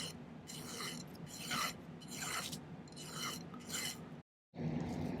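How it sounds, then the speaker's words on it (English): A metal file rasps against a small scrap silver jewelry piece in five or six quiet, rhythmic back-and-forth strokes, close and soft, followed by a brief pause and another stroke. "we're going to do a little bit of filing to get it to fit right in there"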